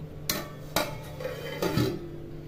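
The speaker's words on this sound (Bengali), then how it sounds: "ডালটাকে এভাবে নাড়াচাড়া করতে হবে, তাহলে ডালটা সুন্দরভাবে সেদ্ধ হয়ে যাবে।" A spoon clanks against a metal pot of mung dal cooking with bottle gourd, giving three or four sharp knocks and scrapes spaced unevenly over a quiet background, close by with no talking.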